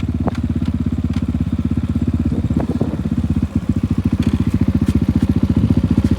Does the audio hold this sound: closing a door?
no